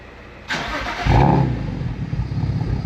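A BMW E92 with a single-turbo M54 engine and aftermarket exhaust turns over and catches with a short burst, then settles into a deep, rumbling idle nearby.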